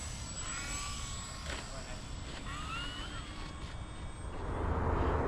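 A radio-controlled P-47 model airplane comes in to land in the wind, its engine droning faintly at a distance with pitch shifting as the throttle changes, under low wind noise.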